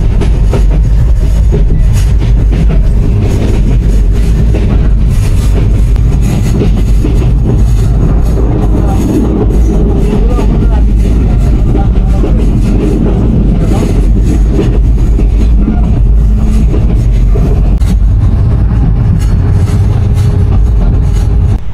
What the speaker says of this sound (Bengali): এবার আমাদের ট্রেন এই যে চলে আসছে শ্রীমঙ্গল স্টেশনের আউটারে